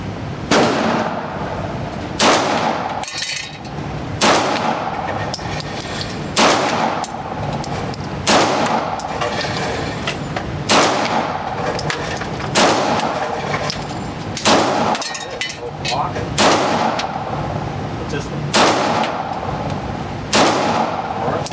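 Repeated gunshots from a Beretta 92 pistol crack out loud and close, about a dozen sharp reports at an uneven pace, each followed by a brief ringing echo, with no talking.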